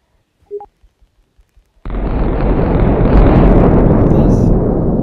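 A planet is destroyed in the Solar Smash space simulation game: a sudden loud, sustained roaring explosion breaks in after a few faint clicks and continues at full strength to the end.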